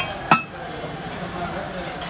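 A brand-name cast iron kadai in a cookware store, giving a single bright metallic clink early on and then fading into quiet room noise.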